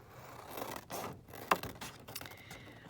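Scissors snip through a laminated plastic sheet in a few short, crisp cuts, with one sharper snap near the middle, quiet and close with no talking.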